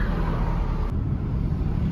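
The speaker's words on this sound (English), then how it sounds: "There's a bit of traffic now, so we're just kind of crawling around." A car crawls slowly through city traffic in Kyiv, giving a low, steady rumble of engine and road noise close by with a faint broadband hiss over it.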